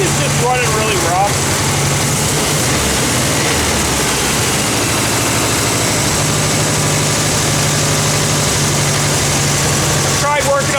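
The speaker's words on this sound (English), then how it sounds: "the engine's just running really rough." A Kubelwagen engine idles roughly, its ignition points gapped wrong and its carburetor out of tune, giving a steady, close, continuous low rumble that holds for the whole stretch with only faint background noise.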